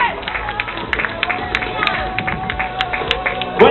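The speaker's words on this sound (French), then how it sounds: "un applaudissement pour Julien" An audience at a youth triathlon in Saint-Jean-de-Monts claps for a finishing competitor, the scattered, steady claps sounding thin and distant beneath an announcer speaking over a public address system.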